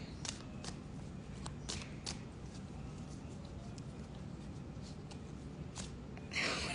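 Playing cards being shuffled by hand, a series of quick riffling bursts and soft card slaps in a quiet room, with occasional faint voices nearby.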